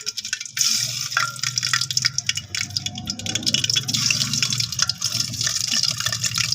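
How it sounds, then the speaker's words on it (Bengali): Eggs fry in hot oil, giving a continuous close crackling sizzle with scattered sputters and pops that holds steady throughout. "তেল গরম হয়ে গেছে আমি এখন ডিমগুলা ফ্রাই করে নিব ডিমগুলা দিয়ে দিলাম"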